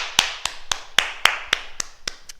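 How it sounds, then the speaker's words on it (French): Several people clap together in a martial arts class, about nine sharp, evenly spaced claps in quick succession that fade slightly toward the end, with no voices. "On s'applaudit. Bravo!"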